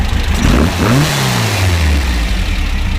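A 1974 VW Super Beetle with a 2054cc stroker engine and Weber 40 carburetors revs loudly up and back down, a close, throaty air-cooled roar that settles toward idle.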